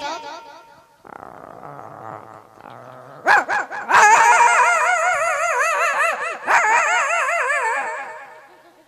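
A boy imitates two dogs fighting, starting with low growls and whines, then breaking into a loud, continuous tangle of snarling barks and yelps, close up.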